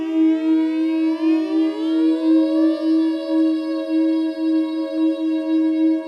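Spacey tones come from a modular synth oscillator: a sustained, loud drone with a gently pulsing wobble while overtones glide upward through a filter sweep, heard alone.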